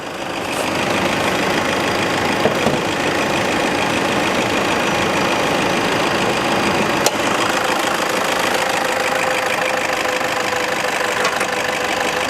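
A Toyota Fortuner VNT TRD Sportivo's D4D turbo diesel engine idles steadily nearby, a constant low rumble with a faint knocking clatter that holds without change throughout.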